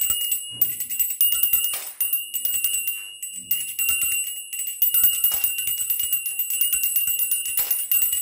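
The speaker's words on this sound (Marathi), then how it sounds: "आणि घंटी कंटिन्यू वाजवत राहायची आहे।" A hand bell rings continuously throughout a one-minute coin-picking party game, its bright metallic jingling steady and close for the whole stretch with brief dips.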